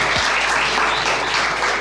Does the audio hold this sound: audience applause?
yes